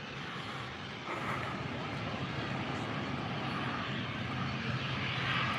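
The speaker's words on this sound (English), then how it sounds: "you might just be able to see the Binter aircraft going out now" A Binter airliner departs Lanzarote Airport, its engine roar a distant, steady wash that swells slightly over a few seconds with no talking.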